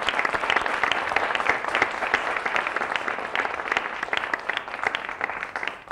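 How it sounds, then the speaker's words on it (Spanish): A studio audience at a live interview show claps for the guests, a dense, steady round of applause at moderate volume. It lasts about six seconds, thinning slightly at the end, with no talking over it. "Un aplauso para ellos."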